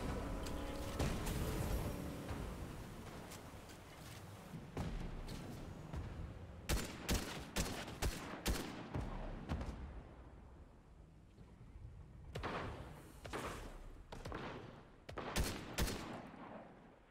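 Gunfire in the video game Fortnite, with loud rapid bursts of shots and single cracks over a constant rumbling game backdrop, in clusters with brief lulls.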